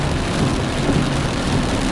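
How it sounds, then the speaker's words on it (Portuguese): Steady, dense rain falls in the middle of a town in Capela, Alagoas, a loud unbroken wash with no gaps and no voices. "Chove e chove molhado, né?"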